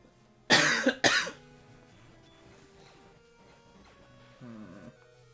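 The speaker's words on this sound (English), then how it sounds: "Why am I coughing a lot all of a sudden?" Two sharp, loud coughs come close together near the mic, followed by quieter electronic game tones and a brief low rumble under the background.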